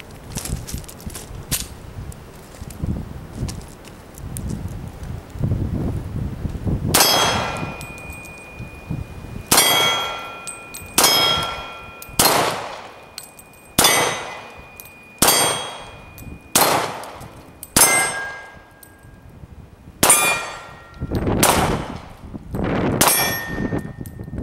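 A CZ P09 pistol in .40 S&W is fired outdoors in a string of about a dozen sharp, loud reports, sparse at first and then coming in steady succession with ringing metallic tails, with no talking.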